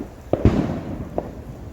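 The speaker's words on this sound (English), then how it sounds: "And there's fireworks." Fireworks bursting at night on Independence Day near a frog creek trail, three distant pops with booming rumble, the middle blast loudest, no talking.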